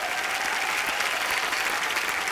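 Sustained audience applause fills a TV comedy studio on The Kapil Sharma Show: thick, continuous clapping at a constant loud level, with no gaps.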